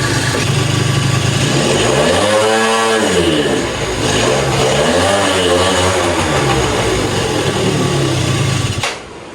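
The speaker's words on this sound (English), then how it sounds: "got the dyno fired up here, got the scooter on here, and it's bogging out" A 2005 Yamaha Zuma scooter with a cheap big bore kit running on a dyno, its engine rising and falling in loud sweeping revs as it bogs out from a lean fuel mixture, then cutting off near the end.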